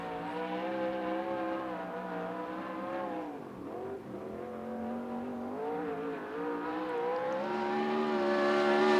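A USAC Southwest race car turns hot qualifying laps at Central Arizona Speedway. The engine holds a loud, steady high-pitched whine that sags briefly and then climbs again as the car runs the oval alone.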